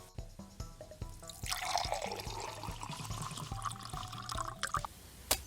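Water pours and splashes from a freshly cut-open coconut outdoors, a soft continuous trickle with a few drips, faint and close by among sharp taps.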